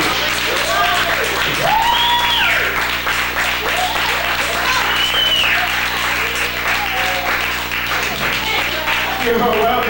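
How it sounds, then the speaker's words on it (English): Audience applause at a Mother's Her-Story Month community gathering, a dense steady clapping from the crowd mixed with cheers and voices, continuing loud throughout. "Give her a round of applause."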